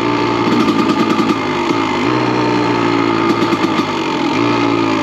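A Honda 250 CR motorcycle warms up in freezing, snowy weather, its two-stroke engine idling steadily and close by with a slightly uneven, buzzing rhythm and small rises in revs throughout.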